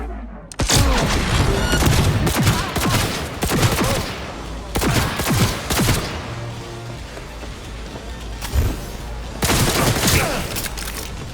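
Gunfire in the video game Cyberpunk 2077, loud bursts of rapid weapon fire and booming shots in several clusters separated by brief lulls of lingering rumble, close and intense.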